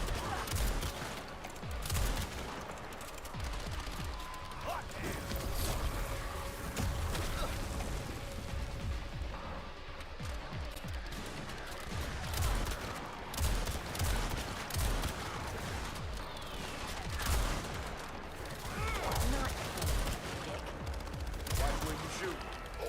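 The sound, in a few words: gunfire in the video game Toxic Commando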